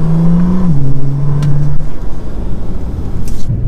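Bentley Continental GT engine with an active exhaust valve system, a loud, close, steady low drone that dips slightly in pitch early on and holds a deep rumble throughout, alone without voices.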